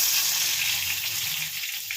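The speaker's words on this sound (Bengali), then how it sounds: "এই দেখুন তেল বসিয়ে দিয়েছি, এদিকে বেগুনটা ভেজে নেবো।" Eggplant fries in hot oil in a home kitchen, a continuous even hiss of sizzling heard up close with no other sounds.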